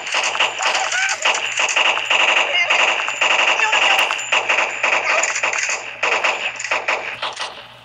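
Rapid gunfire rattles on in the Kick the Buddy video game, a close, loud, continuous burst of shots with metallic pings that barely lets up throughout.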